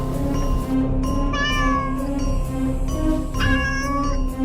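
A cartoon cat meows repeatedly in drawn-out, wavering cries over a steady background hum, close and fairly loud.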